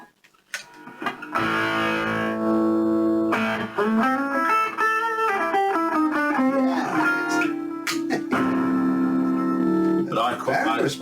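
An electric guitar played through an MXR distortion pedal, a close, loud, saturated tone with sustained chords and bending notes ringing out for most of the stretch.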